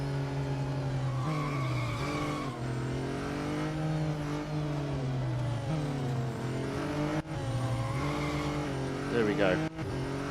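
A McLaren race car in Real Racing 3 drives at speed, its engine droning and shifting pitch steadily through gear changes, with brief tire noise, under a voice talking.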